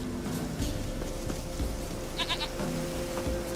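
Goat bleating in the video game Witcher 3, a short run of three quick bleats under a steady ambient game background.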